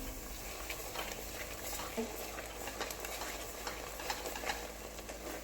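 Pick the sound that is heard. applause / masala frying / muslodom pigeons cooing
masala frying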